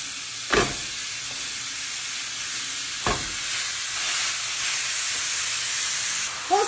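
Tortilla wraps with Big Mac filling frying in a pan, giving a steady close hiss and sizzle broken by a couple of sharp clatters, with no talking.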